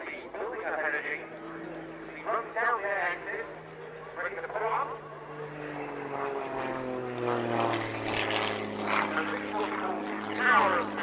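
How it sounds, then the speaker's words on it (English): A propeller aerobatic plane's engine drones and shifts in pitch as it climbs and dives during an airshow display at Cosford in 2022, heard at a distance beneath a commentator's continuous talk. "Halfway through the display, Rich pauses briefly to gain some height and cool down the engine before diving in once again and then pulling into the vertical for a series of upward rolls"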